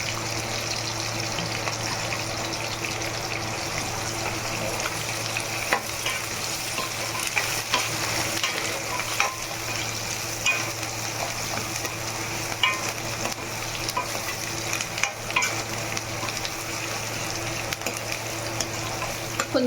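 Onions, green chilies and curry leaves frying in a pan for Telangana-style stuffed eggplant curry, a steady close sizzle with occasional stirring clicks and scrapes throughout, no talking.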